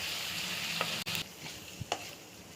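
Marinated prawns are stirred and fried in a hot pan, giving a steady sizzle broken by a few sharp scraping strokes of the spoon. No one speaks.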